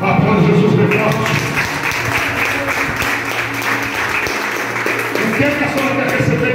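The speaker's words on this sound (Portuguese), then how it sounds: "Aplausos, Jesus, bem forte." Church service congregation applauds steadily and loudly throughout, a dense wash of clapping with voices mixed in beneath it.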